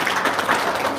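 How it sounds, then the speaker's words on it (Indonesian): A brief, loud burst of audience applause at an Indonesian motivational talk, with thick, continuous clapping filling the whole moment and no voices on top. "Tepuk tangan dulu dong"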